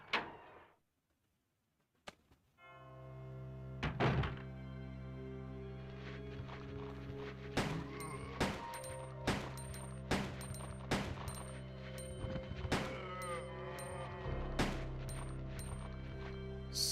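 Gunfire in a video game as guards are shot: a rapid string of sharp, loud shots crowding the second half, over a steady game music drone, with a single bang earlier and no talking.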